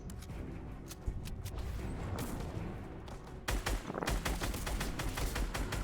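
Gunfire in the Fortnite video game: rapid, dense bursts of shots crackle back and forth, growing busier and louder partway through, with no talking over them.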